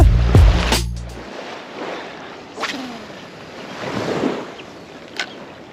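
Surf washing onto a saltwater fishing beach in South County, where sand eels draw feeding fish; a few low thumps open, then steady broadband wash with gentle swells and some wind buffeting the microphone, no talk.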